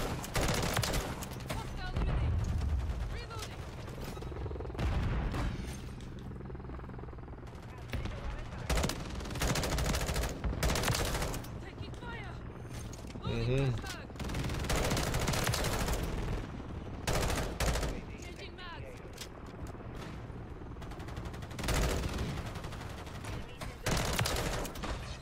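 Full-auto M16 fire in the video game Modern Warfare 3, loud repeated bursts of rapid shots across the whole stretch, with game effects and someone talking over it.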